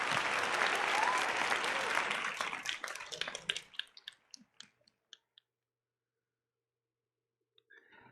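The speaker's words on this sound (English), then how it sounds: "I did play applause for some people." Recorded crowd applause plays loud and dense for about three seconds, then thins into scattered claps and fades to near silence.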